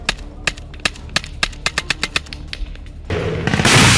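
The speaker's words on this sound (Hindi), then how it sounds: "इजरायली सेना पर ताबड़तोड़ फायरिंग" Bursts of machine-gun fire aimed at an Israeli army convoy, sharp irregular cracks repeating for about three seconds before a dense roar of continuous fire or noise swells in and takes over, with no voices.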